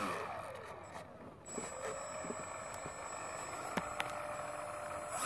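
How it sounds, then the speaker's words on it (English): The electric motor of a Sky Surfer 1400mm RC plane runs with a faint steady whine and some rising and falling tones, heard quietly at close range with small clicks. "Wow, it's a powerful motor."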